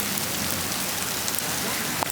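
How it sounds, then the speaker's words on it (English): Tiny hail pellets fall outdoors in a city street during a presidential inauguration, making a dense, even patter like steady rain that continues throughout, with a faint brief tap near the end and no speech. "It's like little hail coming from the sky."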